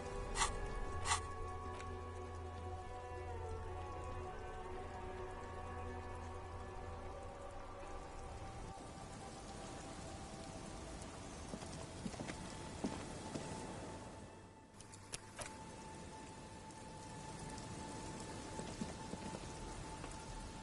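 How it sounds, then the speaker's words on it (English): Rain in the video game Disco Elysium, a steady, dense patter of falling rain continuing throughout, with a couple of brief clicks and a short dip near the end, no voices. "It's getting late, and it's raining."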